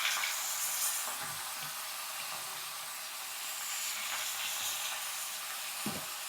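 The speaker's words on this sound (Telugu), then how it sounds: "మనం ఇప్పుడు చూడండి, ఇలా కొంచెం హై ఫ్లేమ్లోనే వేయించుకోవాలండి" Prawns frying on high flame in hot oil, restaurant-style prawn fry, give a steady, dense sizzle with a few soft stirring knocks, loud and close throughout with no talking.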